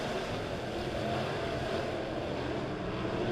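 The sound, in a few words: USRA B-Modified race cars racing on dirt track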